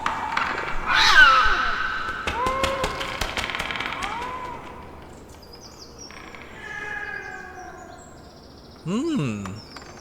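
Eerie creature sounds from a video game: a meowing cat-like cry, sweeping chirps and warbling tones, scattered across a quiet background.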